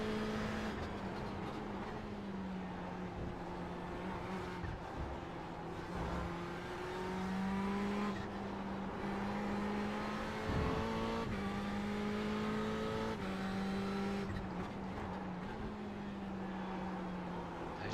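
Ferrari 488 GTE race car at Spa, its engine droning steadily at high revs from inside the car, with pitch rising and dipping through gear changes and a brief sharp shift around the middle, continuous and close.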